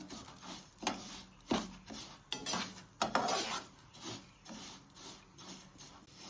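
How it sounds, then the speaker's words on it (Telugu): Urad dal dry-roasting in a pan is stirred with a utensil, giving repeated scraping and rattling strokes at an uneven rhythm, close and fairly quiet, with no talking. "ఇలా తిప్పుకుంటూ వేయించుకోవాలండి"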